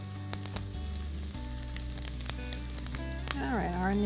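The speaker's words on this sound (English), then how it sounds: "our onion looks pretty good. Getting a little bit caramelized." Onion sizzling and frying steadily in a hot pan as it caramelizes, a continuous close crackle with a few sharper pops and a brief stirring scrape near the end.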